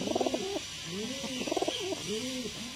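Andhra pigeons coo in a rhythmic series of soft, rolling calls, several phrases repeating close by over a quiet background, with a faint hint of a voice.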